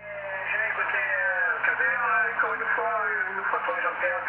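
A voice on an amateur shortwave single-sideband signal sounds warbly and mistuned, its pitch sliding as the receiver is slowly tuned. The transmission plays continuously at steady loudness, thin and band-limited, with a faint hum underneath.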